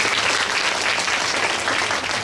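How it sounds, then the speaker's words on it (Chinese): Audience at an education seminar applauds guests on stage, a dense, even burst of clapping from many hands that continues steadily throughout. "让我们再次用掌声谢谢台上贵宾"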